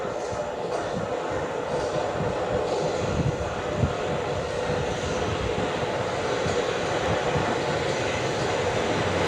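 A South Western Railway train pulls into a station platform with a steady, broad rumble and rolling hum that holds level throughout, while a voice talks nearby.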